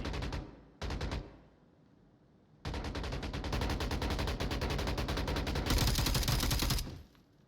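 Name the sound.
gunfire in a firefight, from the VR video game Onward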